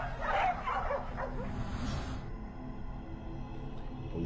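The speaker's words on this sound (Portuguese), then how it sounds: "Passos pesados e agito de cachorros." Agitated dogs bark, yip and whimper in a brief excited burst near the start, then fall away to a lower, restless background over a few seconds.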